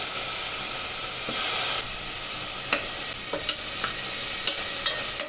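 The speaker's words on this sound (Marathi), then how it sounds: "आता तो जरा थोडासा आपण तेलात भाजून घेऊया" Potato pieces fry in oil with a steady hissing sizzle, a brief louder surge early on, then a few light scrapes and taps of stirring over the constant crackle.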